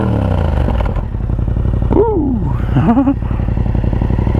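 A Yamaha MT-07 motorcycle fitted with an Akrapovic 2-into-1 carbon exhaust idles loudly up close, then gets a couple of quick throttle blips that rise and fall, with one person whooping briefly over the engine.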